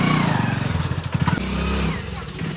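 A motorcycle engine runs loud and close, chugging with a rough, pulsing idle that rises briefly and settles, with no talk over it.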